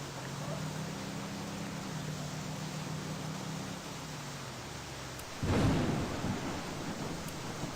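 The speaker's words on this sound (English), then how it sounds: "Jeez, this thunder and lightning is quite realistic." A rolling thunderclap bursts out midway through a thunderstorm in the Denizen video game, cutting through a continuous bed of heavy rain that hisses steadily before and after the strike.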